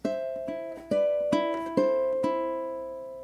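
Plucked ukulele notes stepping downward in a short walk-down, each note ringing into the next, played alone with no talking.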